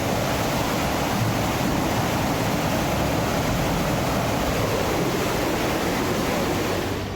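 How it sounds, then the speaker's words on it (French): A waterfall cascade along a canal in eastern France roars as a constant, dense rush of falling water, loud and unbroken throughout, with no voices over it. "Et je profite de la cascade."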